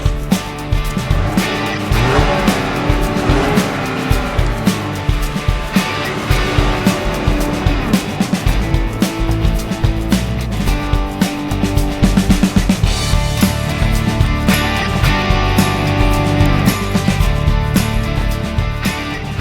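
A 2013 Chevrolet Malibu with a turbo engine drives along Spokane roads, giving a steady, dense wash of engine and road noise that holds throughout at an even level, with faint traces of a voice in places.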